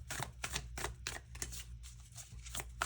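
Tarot cards being shuffled by hand, a series of quick riffling bursts and soft taps at close range, fairly quiet with short gaps between strokes.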